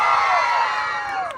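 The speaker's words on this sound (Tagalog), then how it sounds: "Wala po bang hiyawan dyan?" Pageant audience at the Queen of Ilagan 2025 cheers and shouts in a loud, dense burst of voices and whoops, close and sustained, tapering slightly at the end.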